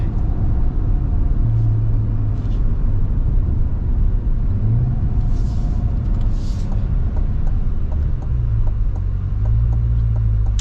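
A 2026 Chevy Corvette C8 heard from inside while driving, a loud, steady low engine and road rumble throughout with a couple of brief higher hisses partway through.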